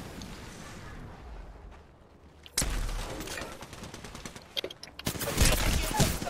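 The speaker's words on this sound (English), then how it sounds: "Shot fired at me" Video game gunfire: rapid bursts of automatic shots, at first quieter and patchy, then louder and denser, crackling in sustained volleys with sharp individual cracks.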